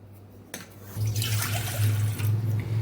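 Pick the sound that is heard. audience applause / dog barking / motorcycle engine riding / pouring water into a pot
pouring water into a pot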